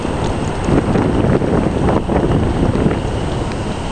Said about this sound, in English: Nice little gust front.